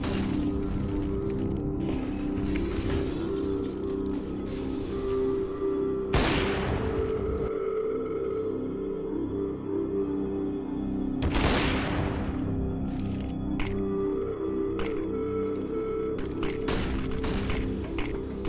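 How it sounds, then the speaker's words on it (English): Gunfire rattles through a tactical shooter esports match, with continuous weapon and game effects, two sharp loud bursts of shots, and scattered short cracks and clinks across the stretch. "He is struggling with his aim and Friction is gonna end him with a nice headshot."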